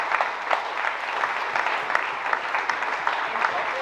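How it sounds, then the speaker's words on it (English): Audience applause for the support team at a mayoral candidates' forum on the environment, a continuous roomful of clapping heard close and fairly full, with no individual claps standing out. "So a huge round of applause for them,"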